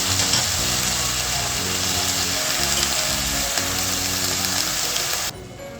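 Washed spinach sautéing in oil in a pan, giving a continuous loud sizzle with scraping and stirring clatter that cuts off abruptly near the end, no talking.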